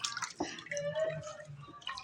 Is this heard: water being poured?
yes